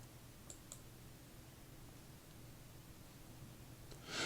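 Faint, sharp mouse clicks on a tab of a computer interface: two quick ticks close together, then quiet room tone and a slightly louder click near the end.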